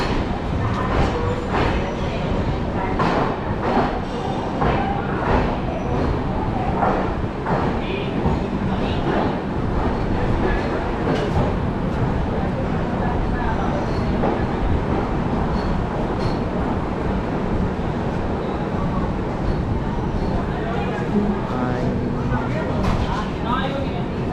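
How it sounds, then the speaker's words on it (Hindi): On a busy station platform beside the standing Amritsar CSMT Dadar Express, a dense, continuous rumble of rail noise and crowd din holds steady, with voices talking throughout. "और ये हमारे सामने खड़ी है अमृतसर CSMT दादर एक्सप्रेस।"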